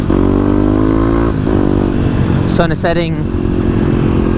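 A Kawasaki KLX250 motorcycle hums along at a steady cruising drone on a road in autumn, with a brief rise in engine pitch partway through while a rider talks over the engine noise.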